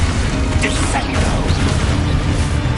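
Descendo spell cast in Hogwarts Legacy, a dense magical whoosh and crash that slams down amid continuous loud game combat noise, with crackling bursts and a low rumbling impact throughout.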